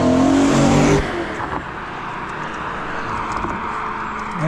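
A car revs loudly as it drives past on a road, a strong engine roar that cuts off after about a second, then fades into quieter ambient traffic and outdoor noise.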